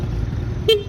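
Horn of a Honda Topic AF38 cargo scooter imported from Japan gives a single short beep near the end, sounding close over a low, steady background rumble.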